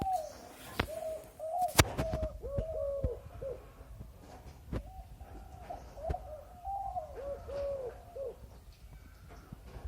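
Spotted dove calling from trees, a series of repeated soft rhythmic coos at moderate distance over quiet outdoor background with a couple of sharp knocks, no talk.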